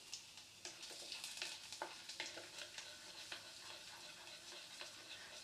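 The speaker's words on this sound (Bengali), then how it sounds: "রসুনটা একটু ভাজা ভাজা হবে।" Two cloves of garlic frying in oil with dried red chillies and nigella seeds, a faint steady sizzle broken by small crackling pops and light stirring.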